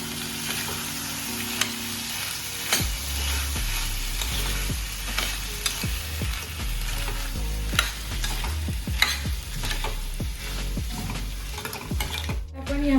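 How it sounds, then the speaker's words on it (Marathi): Black dry peas stirred and fried in a pan for a Konkan-style usal, with a steady sizzle under repeated scraping spoon strokes and occasional clinks against the pan, close and continuous. "आता आपण यामध्ये वाटाणे टाकून घ्यायचे आणि पुन्हा आता हे एकत्र करून घ्यायचं आपल्याला"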